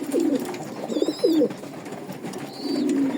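Pigeons coo softly in a breeding loft, low throaty phrases repeated against a steady background hum, with a few faint higher chirps mixed in.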